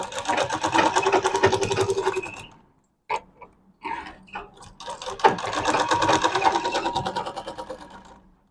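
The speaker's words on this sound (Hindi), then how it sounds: "इसी तरह से हम यहाँ पे सिलाई कर लेंगे" Sewing machine stitching fabric for a medium-sized bag, running in two steady bursts of rapid mechanical chatter with a short pause of small clicks and handling sounds between them, close and fairly loud.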